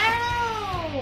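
Angry cat yowling, a single loud, drawn-out caterwaul that bends downward in pitch over a low growling undertone, close and alone.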